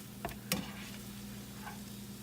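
Scrambled eggs sizzle quietly in a frying pan while a utensil turns and chops them. A couple of light taps and scrapes sit over a soft, steady frying hiss.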